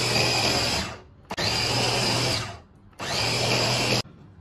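A food processor blends squid into fish paste in three loud whirring bursts, each with a steady motor whine and a clean stop, separated by short pauses.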